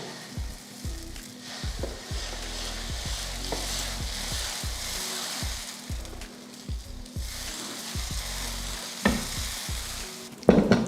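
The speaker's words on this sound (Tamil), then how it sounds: "இப்போ தோசை ஊற்றிடலாம்." Dosa batter sizzling on a hot tawa for masala dosa, a loud continuous frying hiss with repeated scraping and spreading strokes, ending in a sharp clatter.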